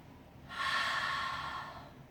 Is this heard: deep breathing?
yes